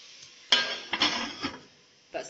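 A metal lid clanks down onto a pot of simmering tomatoes in a home kitchen, with a sharp clatter, a couple of softer knocks and scrapes, then one more brief clink near the end.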